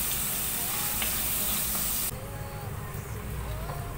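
Curry leaves and green chili fry in hot oil for a Kerala-style fish curry, giving a loud, steady sizzling hiss close up that drops to a softer crackle partway through.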